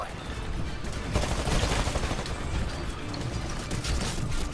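In the Titanfall video game, smart pistol fire comes as rapid, dense bursts of loud gunshots, layered with other battle noise over the full stretch.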